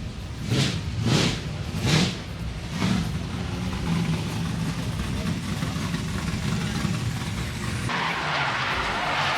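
Drift cars at the Summernats car show in Australia roar and skid with engines working hard, a loud, continuous rumble broken by a few rhythmic bursts near the start, while crowd noise and voices carry underneath.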